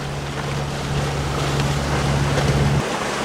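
The boat Mischief cruises across Cumberland Sound on an outgoing tide, its engine a steady low hum under constant wind and water rush, ending with a slight drop in the drone.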